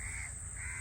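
A single crow gives one short, harsh caw, close and clear, against a low background rumble.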